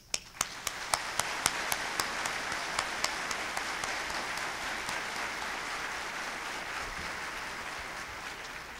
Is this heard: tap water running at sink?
no